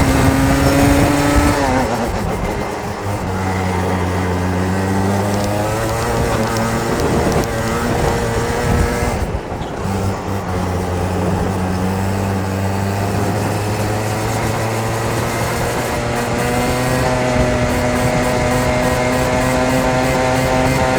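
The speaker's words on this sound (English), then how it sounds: "the engine don't want to come back on the straight on the full throttle" In a racing video game, a race car engine holds full throttle, droning at a high pitch, rising with each gear and dipping briefly between gear changes, loud and continuous without talk.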